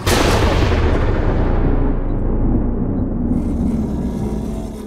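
Cannon fire in a Minecraft mod game: one heavy, booming blast with a deep rumbling tail that rolls on and slowly fades, loud and close with no talking over it.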